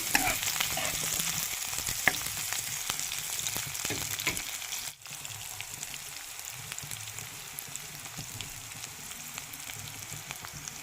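Chopped onion hits hot oil in a wok and fries with a steady, dense sizzle that holds evenly throughout, with a brief dip midway and faint crackles on top.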